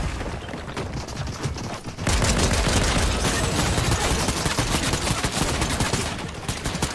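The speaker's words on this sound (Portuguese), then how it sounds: "Quem tá atirando aqui?" Gunfire in the video game Unreal, rapid automatic bursts and shots piling into a loud, dense barrage that swells after the first couple of seconds and keeps going.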